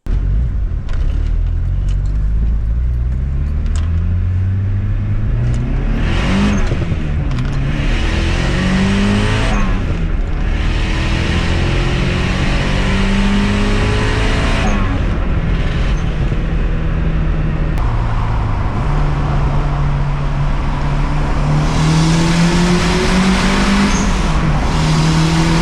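A turbocharged Subaru with a swapped Honda K-series engine accelerates hard at full throttle, its engine note climbing repeatedly through several gear changes, loud and close throughout with no voices.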